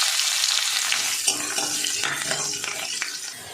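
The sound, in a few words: chopped garlic frying in oil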